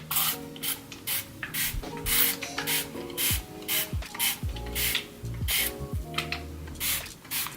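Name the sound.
spray bottle spraying hair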